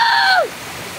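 Water rushes steadily at Bodakonda waterfall near Hyderabad, a continuous close roar that is briefly overlaid at the start by a falling, voice-like tonal sweep.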